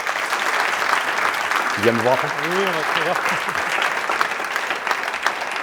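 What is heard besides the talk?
audience applause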